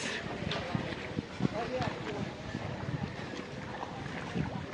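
A motorised trawler works on the Padma River near a ferry ghat, its low engine drone mixed with wind buffeting the microphone, while a person talks throughout.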